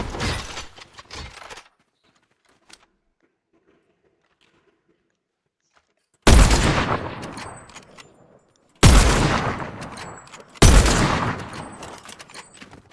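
Gunfire in the Fortnite video game: after a brief loud burst at the start and a quiet gap, three sharp, loud shots ring out in fairly quick succession, each leaving a decaying echo.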